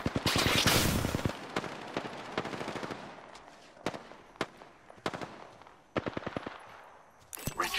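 Gunfire in the video game Apex Legends: an opening loud burst of rapid automatic fire, followed by scattered single shots and short bursts at varying distances, with brief speech in between.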